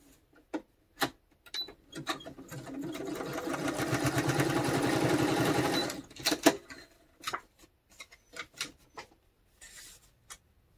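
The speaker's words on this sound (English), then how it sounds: "Just stitch it on with a zigzag." Sewing machine zigzag stitching a fabric tab onto a journal page, a steady rapid mechanical whir lasting a few seconds, framed by scattered clicks and handling taps before and after.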